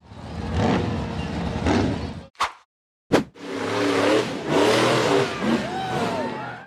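A red off-road buggy engine revs hard as it charges up a steep dirt slope, loud and close, breaking off briefly with a couple of sharp bangs before surging again.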